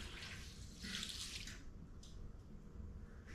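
Evapo-Rust liquid is poured into a container over a saw blade, a quiet trickling splash lasting a second or so, followed by faint drips and soft sloshing.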